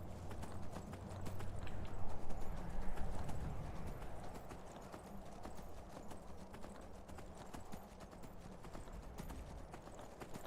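Horse hooves clip-clop in the video game Skyrim, a rapid galloping rhythm of close, sharp hoofbeats that runs steadily throughout.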